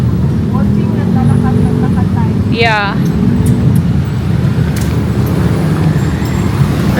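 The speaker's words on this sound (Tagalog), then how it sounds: "Traffic na." Steady road traffic roars on a busy street while someone walks home, with cars and buses rumbling throughout, a brief bird chirp mid-way, and people talking briefly over the noise.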